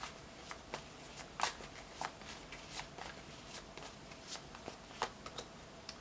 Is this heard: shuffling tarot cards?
yes